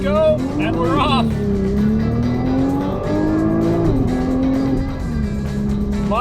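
A 2021 Nissan GT-R launches hard under launch control, its engine loud and close as the revs climb in rising sweeps through several gear changes, with someone speaking over it.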